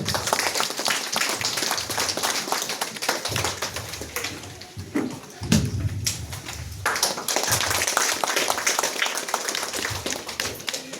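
A crowd at a church thanksgiving gathering claps hands continuously and loudly, a dense patter of many claps with a brief lull midway before the applause swells again.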